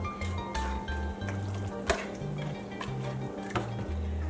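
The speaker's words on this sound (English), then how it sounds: "Stir it all up." Jamaican stew peas with turkey neck and all-purpose seasoning are stirred in a pot, a soft scraping and bubbling sizzle with a few light clinks of the utensil against the pot.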